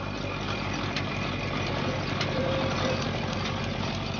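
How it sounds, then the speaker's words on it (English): A diesel engine powering a sugar cane press in the Indian countryside idles with a steady, continuous low rumble and broadband drone, close and unbroken throughout. "the work's now done by a diesel engine"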